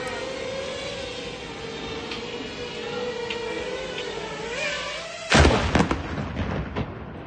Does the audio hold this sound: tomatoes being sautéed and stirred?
no